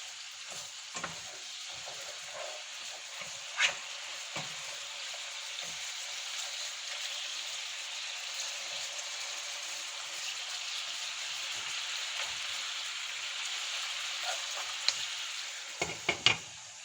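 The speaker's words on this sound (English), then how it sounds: "I'm going to uncover and give it a stir." Diet Coke chicken stew simmering with a steady broadband sizzle, broken by a few sharp spoon-against-pot scrapes and clinks as it is stirred; no talking.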